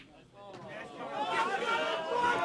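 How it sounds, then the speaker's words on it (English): Spectators murmur and chatter softly in the background at an 8-ball pool money match, a low, steady crowd babble with no single voice standing out. "At the moment the crowd's going a little bit quieter"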